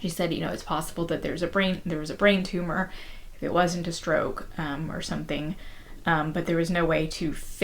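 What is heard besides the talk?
No everyday noises stand out.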